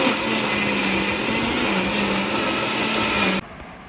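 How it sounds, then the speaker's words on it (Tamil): An electric mixer grinder whirs steadily, grinding a masala of coconut, cinnamon, dried chilli, cumin, fennel, ginger and garlic. The loud, continuous motor drone holds for several seconds, then cuts off abruptly to near quiet. "இப்போ வந்து மசாலா தான் அரைக்க போகிறோம்."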